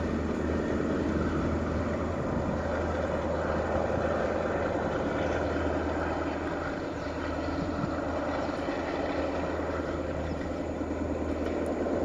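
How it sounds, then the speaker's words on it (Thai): A continuous heavy diesel engine drone from a revving train locomotive, deep rumble, holding steady and loud for the whole stretch with no speech. "ฟังเสียงเร่งเครื่องครับ"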